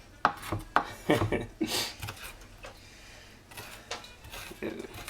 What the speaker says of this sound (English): Random chops. That's how I chop my onions